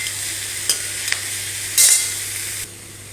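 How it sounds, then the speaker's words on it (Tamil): Radish sautéing in a pan gives a steady hiss with a few spatula scrapes and one louder stir burst, close and clear with no talk. "முள்ளங்கியை லேசாக ஒரு வதக்கிக்கலாம்."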